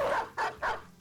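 Several quick dog barks from the video game Battle Brothers, three sharp bursts about a quarter second apart, close and moderately loud with no talking.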